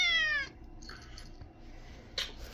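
A pet cat gives one clear, close meow at the start, followed by quiet room sounds and a small sharp noise near the end.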